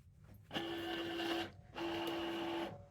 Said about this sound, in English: Cricut, of course, has to read the registration marks, which is what it's doing right now